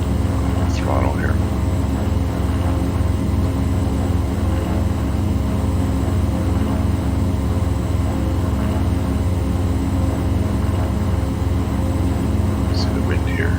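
A propeller aircraft engine at high throttle for takeoff in Microsoft Flight Simulator 2020 gives a steady, loud, unbroken drone with a constant pitch throughout, and no one speaks over it.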